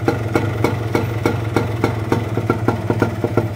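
A Yamaha DT 125 motorcycle, millennium model, with a newly rebuilt engine including a fresh piston pin bearing, idles steadily and close by. It makes a low hum with an even ticking, putting beat throughout.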